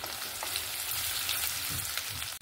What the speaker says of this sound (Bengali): এবার পেঁয়াজটাকে আমি লাল লাল করে ভেজে নেব